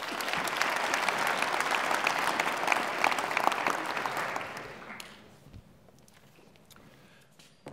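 An audience at a university lecture applauding for the board chairman, a dense burst of clapping lasting about five seconds before fading to a quiet room with a few scattered claps.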